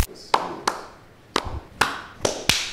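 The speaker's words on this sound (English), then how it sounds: "you got like 40 claps to sort through" Single pair of hands clapping six sharp, close claps at uneven intervals, each crack decaying quickly into a quiet room with no talk.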